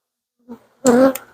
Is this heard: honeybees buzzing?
yes